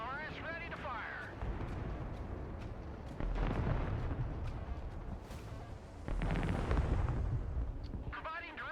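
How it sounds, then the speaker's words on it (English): MLRS rocket artillery firing in the video game Broken Arrow, a rumbling barrage of launches and blasts swelling in two loud waves, with radio-style voices speaking over the battle. "MLRS ready to fire."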